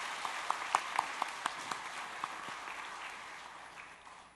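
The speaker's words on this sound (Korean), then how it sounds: "우리 하나님께 영광의 박수 올려드리겠습니다." A church congregation at an evangelism rally in Seoul applauds: a few distinct sharp claps at first, then a soft, distant wash of clapping that slowly fades.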